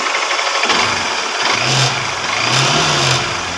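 A car engine, registration KL63G8761, being revved during a battery charging check; loud and close, two rising revs climbing and falling over a steady idle, no talk.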